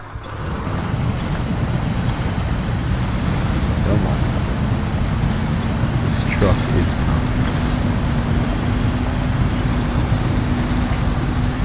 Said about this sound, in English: Truck just likes to get stuck in the mud.